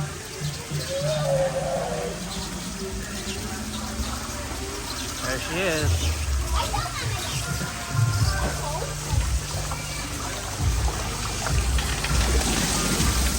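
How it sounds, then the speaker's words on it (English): A big tipping bucket at a beach wave pool resort dumps a rush of splashing water amid steady pool noise, with children and adults talking nearby. "Watch that bucket of water."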